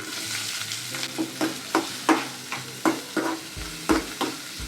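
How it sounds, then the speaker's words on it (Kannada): Onions and chana dal fry in hot oil in a pan for a cabbage and egg stir-fry. A continuous close sizzle is punctuated by rhythmic spatula scrapes about every half second, with no talking. "ಹಾಗೆ ಈರುಳ್ಳಿನ ಹಾಕ್ಕೊತಾ ಇದ್ದೀನಿ"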